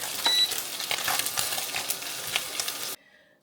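Steady crackling sizzle of mushrooms frying in a pan, close and continuous, with occasional stirring scrapes, then cutting off abruptly near the end.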